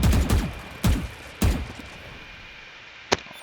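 In a video game, two sharp grenade blasts burst in quick succession, followed by another punchy explosion and a lone short crack of turret fire, loud and close.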